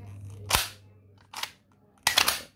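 Toy BB gun handled and fired: three short, sharp cracks or clacks spaced unevenly in quiet surroundings, close by, with no speech.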